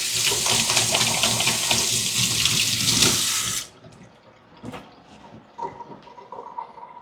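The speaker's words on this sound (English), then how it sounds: "Let me wash my hand now." A kitchen tap runs steadily as hands are washed during cooking, a loud continuous splash that cuts off abruptly partway, followed by faint clinks and handling noises.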